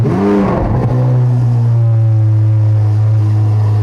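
A powerful Chevy Corvette C8 Z06 engine with Fabspeed sport cats roars loud and close, a rising rev at the start settling into a steady, deep rumbling idle.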